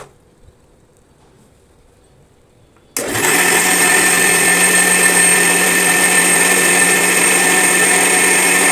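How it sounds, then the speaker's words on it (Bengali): An electric blender whirs loud and steady as it purees cooked tomato sauce, starting abruptly after near silence and holding a constant high-pitched motor drone to the end. "দেখুন এটা ব্লেন্ডার করা শেষ"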